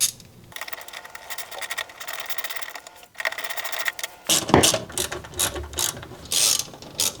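A ratchet fitted with a 5/16 socket backs out self-tapping screws from a home air-supply duct cover, giving runs of rapid close clicking that pause briefly and then continue in louder, choppier bursts with faint handling noise.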